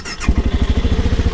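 A VOGE 650 DS motorcycle on a test ride gives a loud, close engine note with a rapid, pulsing low throb that starts abruptly and holds a steady beat.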